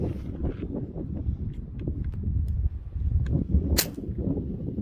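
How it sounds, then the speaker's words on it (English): A Pump Master pump air gun fires a pellet through a chronograph: a single sharp, near crack stands out once against a steady low background rumble. "we'll see what a pellet can do out of this gun"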